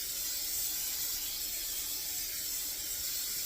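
Cooking spray hisses steadily from an aerosol can into a Bundt pan, a continuous soft, close spray held for several seconds.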